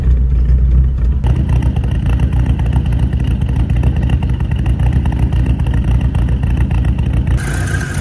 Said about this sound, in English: One day I'm gonna fix those exhaust leaks.